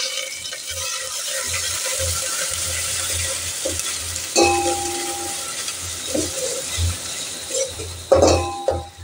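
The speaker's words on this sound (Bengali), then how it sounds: "আদাটাও আমাদের ভাজা ভাজা হয়ে যাচ্ছে।" Ginger paste fries on low heat in a steel pot, a continuous close sizzle broken by metallic scrapes and clinks of stirring.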